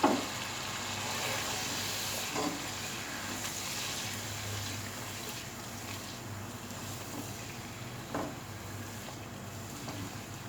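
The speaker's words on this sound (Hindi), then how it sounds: "अब हम इसको भी तमाम मसालों को गोश्त में अच्छी तरह भूनेंगे" Beef sizzles in a pot with spices as it is browned for degi-style badami korma. The quiet, steady frying hiss carries a few soft scraping and stirring knocks, with no talking.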